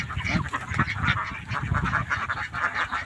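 Domestic ducks kept for eggs quack in a flock, a close, busy chorus of overlapping nasal calls with no pauses.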